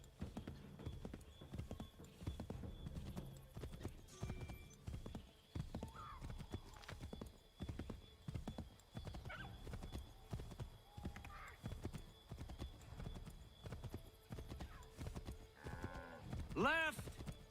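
Clip-clop of galloping horses in Assassin's Creed III Remastered, a steady fast rhythm of hooves with occasional neighs and whinnies and some faint game voices.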